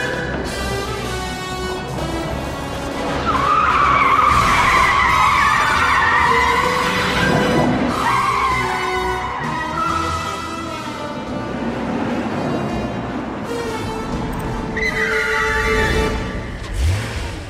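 A car driven hard in a 1997 James Bond film scene, engine revving and rising with tires skidding and squealing, loud and sustained with swells of engine roar throughout, no speech.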